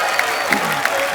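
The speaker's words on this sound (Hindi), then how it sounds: "जोरदार तालियां के लिए" Applause from a studio audience on a comedy show, a short steady burst of clapping and crowd noise.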